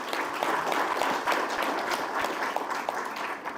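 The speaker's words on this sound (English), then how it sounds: "We'll ask you to give a big round of applause" Applause from the audience fills a conference hall at a parallel session of Sagarmatha Sambaad 2025. It is a steady patter of many hands clapping, fairly close and moderately loud, with no one talking.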